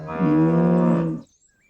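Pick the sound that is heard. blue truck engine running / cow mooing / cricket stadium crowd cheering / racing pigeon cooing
cow mooing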